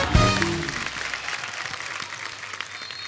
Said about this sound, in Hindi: एक बार अक्षय बाजी के लिए जोरदार तालियां।